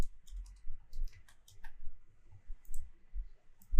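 Light clicking keystrokes on a computer keyboard come in short irregular clusters while text is entered in a logo design, close and quiet against near silence, with no speech.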